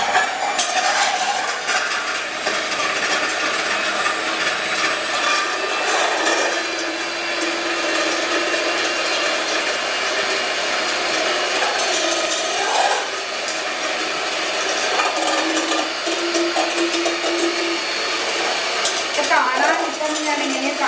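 An electric hand mixer whips sugar and instant coffee into a dalgona foam, a steady whirring drone running throughout at a constant close level with faint clinks of the beaters against the bowl.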